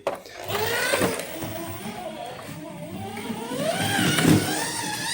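A 1/32 scale Scalextric Ferrari 330 P4 slot car motor whines steadily while the car sits loaded on the track, a buzzing electric hum that rises and swells toward the end, with a voice talking over it.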